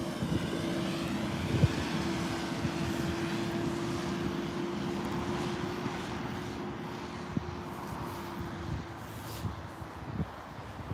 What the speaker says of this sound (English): A321 on the way on a taxi down.